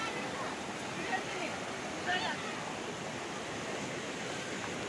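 Broadband rushing water from a river current and waves flowing through hilly, forested country, a steady continuous wash, with faint voices and a breezy, windy texture underneath.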